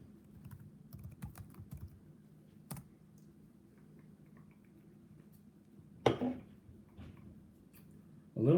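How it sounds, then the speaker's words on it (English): Typing on a computer keyboard at a home PC set up for a live chat, with soft, quick rapid key clicks in bursts over a low room hum, followed by a few louder clacks near the end. "I'll just type something to say hi."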